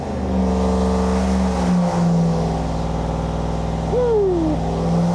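A custom supercharged 419ci LS3 V8 roars under load on an engine dyno, a loud, sustained engine note with a rising then falling whine, close and continuous with no talk.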